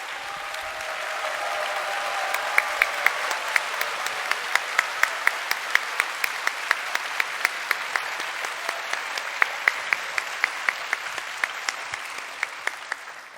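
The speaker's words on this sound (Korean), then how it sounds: "두 분을 환영하는 마음으로 박수로 맞이해 주시기 바랍니다." A church congregation at a Sunday worship service applauds, with dense clapping that swells and carries on steadily throughout, ringing with sharp individual claps.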